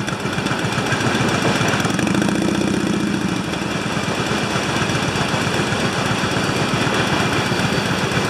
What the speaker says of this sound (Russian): Можно в полной мере насладиться замечательным звучанием полуторалитрового ветвина.